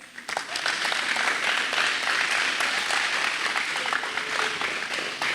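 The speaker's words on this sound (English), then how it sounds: "Applaud yourselves, ladies and gentlemen. And I'd also like the children to applaud their parents." Sustained audience applause fills a graduation ceremony for a Year 6 class, a dense, steady wash of many hands clapping together, loud and continuous from start to finish with no break.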